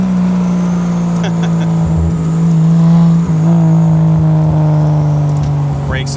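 A 1968 Triumph TR250 driving in second gear gives a steady, close engine drone that holds an even pitch, with a slight surge partway through and faint voices in the background.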